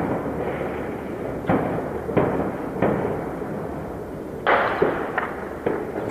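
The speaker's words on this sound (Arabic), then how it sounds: "قصف همجي على أحياء حمص" Shelling strikes on old neighbourhoods of Homs during fighting, heard as several dull, distant booms spaced a second or so apart over a constant noisy background, with no voices.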